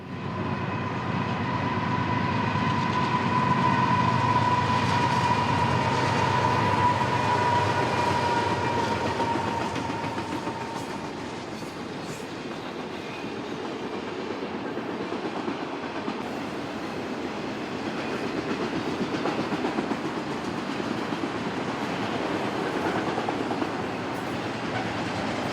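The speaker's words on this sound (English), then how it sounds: "A vehicle train headed east on Track 2." Eastbound freight train carrying vehicles passes on track in Daggett, California, desert town; steady loud rumble and rail clatter with a horn-like tonal blare early that fades, continuous wheel noise throughout, no talk.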